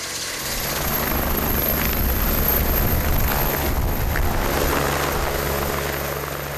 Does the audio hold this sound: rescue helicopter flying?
yes